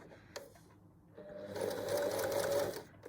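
Sewing machine stitching forward then reversing over a fabric cushion-cover hem, a steady close whirring run of a little over a second after a brief tap, with no talking.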